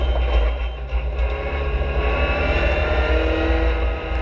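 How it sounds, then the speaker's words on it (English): Race cars including a BMW 1 Series GTR, Renault Clio and Lotus in the Supercar Challenge at Zandvoort, a continuous loud engine drone with rising and falling revs that dominates throughout, with no voices. "Inside is Karian Bergsma in the Lotus. And he's got the grip to go around the outside of her"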